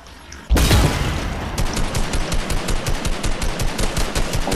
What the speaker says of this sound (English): Oh, Willo, you're getting shot.